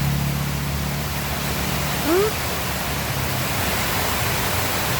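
Heavy rain pours down with loud rushing runoff water in a mountain area, a steady broadband roar that fills the scene, with a brief faint vocal sound partway through.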